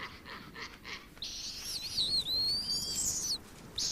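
Owl chicks in a nest in the Russian taiga give insistent high, wavering calls that rise into a long, loud squealing stretch, preceded by a few softer rhythmic chirps, with no talking.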